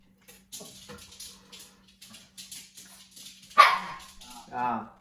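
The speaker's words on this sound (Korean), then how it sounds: "저희 집 강아지 까미. 강아지는 정말 귀찮지만 귀여워요" Pet dog at home giving a series of small, quick yips and barks, then a louder sharper bark and a whiny yelp, close by in a quiet room.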